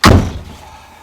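A VW T3 van door slams shut with one loud, close, heavy thunk and a short rattling decay, with no talk.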